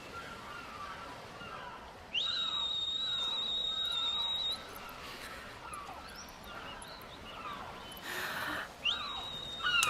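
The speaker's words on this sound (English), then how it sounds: "He's not going to come to you just because you're whistling, Yuna." Yuna whistles in the video game Final Fantasy X, a steady high pure tone held for about two seconds, then a short rising whistle near the end, over a soft ambient game background with faint bird-like chirps.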